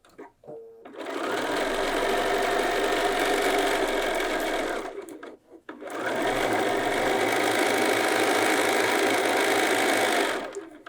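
A sewing machine stitching two layers of fabric together, running in two long, steady, close bursts of rapid mechanical whirring separated by a short pause.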